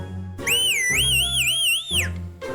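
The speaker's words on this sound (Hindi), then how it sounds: "अब बजाओ सीटी और करो मुर्गियां वश में" A shrill whistle is blown in one sustained, wavering blast lasting about one and a half seconds, with rising and falling pitch and lower sounds in the background.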